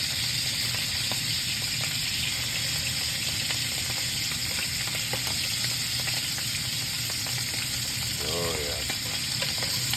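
Raccoon meat searing in butter in a hot pan, a loud, steady crackling sizzle with spitting pops, close up, and someone briefly speaking over it.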